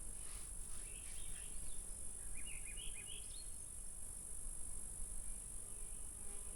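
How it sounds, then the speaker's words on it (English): Steady, loud insect drone with a constant high buzz of crickets outdoors at a cabin, with a few faint bird chirps briefly rising above it partway through. "Lots of wildlife noises. Too many bugs though."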